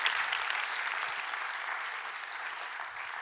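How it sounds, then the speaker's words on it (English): A steady round of applause from a conference audience for volunteers who joined an interactive session on play, even clapping sustained throughout at moderate distance. "big round of applause for people who were courageous enough to come and play with me"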